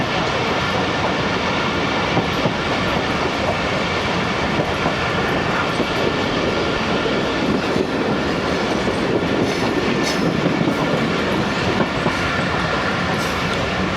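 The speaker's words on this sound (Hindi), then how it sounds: "मेन लाइन पर ही रह रही है ट्रेन।" Karakoram Express train running on the main line on the Lahore to Khan route, with a steady, loud rumble of wheels and carriages and rhythmic clickety-clack throughout, with no voices.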